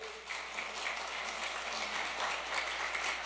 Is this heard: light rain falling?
no